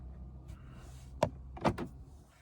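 A VW Taigun car door opens from inside, a sharp latch click followed by a double clunk and a soft rustle, close and fairly quiet over a low hum of the cabin.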